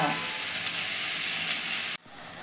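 Okra (bhindi) cooks in a pan over a low flame with a steady, dense sizzle and crackle that cuts off abruptly near the end.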